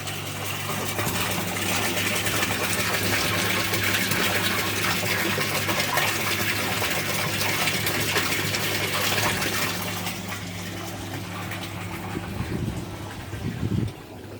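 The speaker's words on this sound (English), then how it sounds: "So what I showed you down there was how it looks like, how it pours out, and here this is it siphoning." Water siphoning and pouring into the sump tank of a DIY backyard aquaponics system, a steady close rushing gush that eases slightly toward the end, with no talking.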